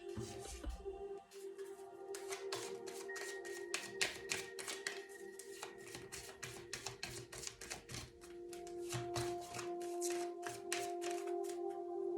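A deck of question and answer cards being shuffled in a card-reading session, with steady rapid riffling and flicking in repeated bursts over a faint background hum, close and moderately quiet, with no one speaking.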